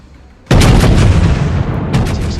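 North Carolina battleship main guns in World of Warships fire at a Mogami cruiser: one loud, close, booming salvo with a long rumbling tail, then a second crack about a second and a half later, with no talk.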